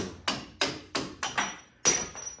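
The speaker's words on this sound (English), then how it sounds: "take a little screwdriver and tap them out. Give them a little tap, tap, tap-a-roo" A hammer taps a small screwdriver to drive out strut bolts on a 2015-2023 Jeep Renegade's front suspension, five or six sharp close metallic knocks spaced unevenly, the last one loudest, with quiet between.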